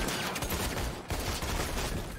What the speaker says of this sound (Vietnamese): 5 bảo vệ bắt đầu điên cuồng xả súng.